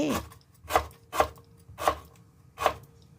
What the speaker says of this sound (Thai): นำตะไคร้มาซอยเป็นแผ่นบาง ๆ เอาแต่ส่วนหัวอ่อนๆของตะไคร้